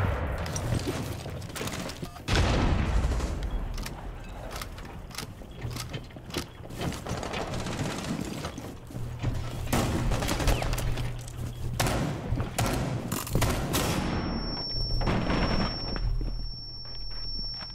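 Shotgun fire in an online shooter game, several loud heavy blasts and thuds amid chaotic gunfire and movement, close and punchy, with no clear talk over it.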